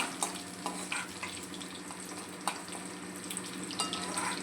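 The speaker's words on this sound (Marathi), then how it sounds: "थोडं चांगलं लाल करून घ्यायचं लसूण" Garlic frying in a pan while a Konkani surmai fish curry is prepared, a soft continuous sizzle with a few faint clinks, close and quiet, with no one speaking.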